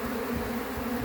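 A large swarm of bees pours out of a hive inside a huge tree, a dense continuous buzzing hum that is close and steady throughout.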